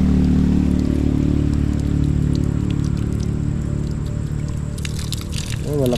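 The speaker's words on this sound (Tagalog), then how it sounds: "Ay, malakas ang tubig." Strong water flows in a dense, continuous rushing wash that fills the clip. Faint splashy detail and a brief squeak come near the end.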